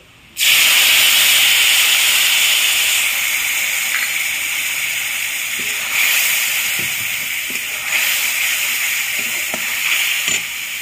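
A soaked paste of ground cumin, turmeric and chili hits hot oil in a pan with a sudden loud hiss, settling into a steady close sizzle with small stirring scrapes and brief surges.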